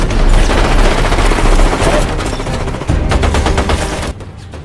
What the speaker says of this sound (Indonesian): Bell pun langsung diserang dengan banyak peluru.